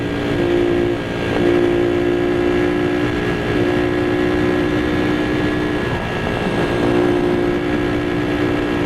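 A Honda Cub C65 motorcycle rides along, its small single-cylinder engine holding a steady, droning hum close by with wind rush, no talk.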